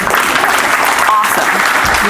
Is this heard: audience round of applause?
yes